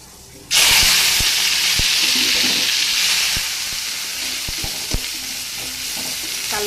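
Red amaranth leaves drop into hot oil tempered with black cumin in a wok, setting off a sudden loud sizzle that settles into steady frying, with sharp spatula clicks as the greens are stirred.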